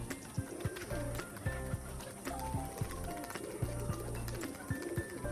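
Domestic pigeons doing a tumbling flight display overhead, with repeated sharp wing claps in an uneven rhythm over a steady dense background, and soft cooing mixed in.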